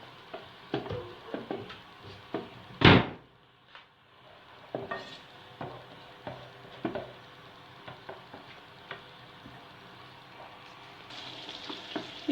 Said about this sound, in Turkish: iyice yağımı kavurdum